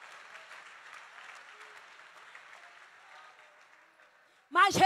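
A church congregation applauds, a broad wash of clapping held at a steady, fairly faint level for several seconds before a voice cuts in loudly at the end.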